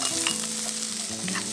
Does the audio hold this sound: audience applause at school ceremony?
no